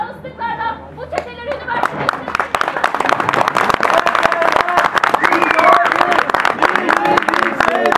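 A crowd at a student protest at a Turkish university claps in scattered, uneven bursts that build into denser applause, mixed with voices and chatter nearby.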